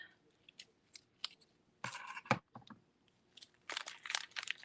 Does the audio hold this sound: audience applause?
no